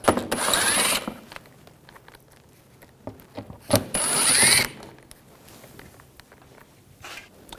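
A ratchet with a T25 socket works screws loose on a 2011-2018 Volkswagen Jetta TDI wagon, two bursts of rapid clicking separated by quieter handling noises, close up with no speech.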